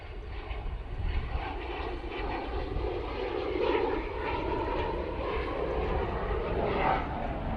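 A loud, continuous roar from an airliner's engines at Manchester Airport fills the whole stretch, swelling slightly midway while a distant voice murmurs underneath.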